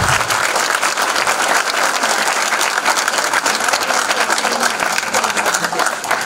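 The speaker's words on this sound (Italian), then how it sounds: "un applauso." Theatre audience applauds the cast at a comedy stage performance, a dense, steady wash of many hands clapping at full strength throughout, close and loud with no voices over it.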